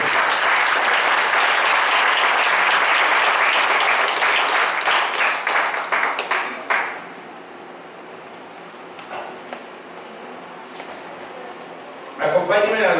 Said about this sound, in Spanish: ¿Por qué no le da una ofrenda de palmas a Dios?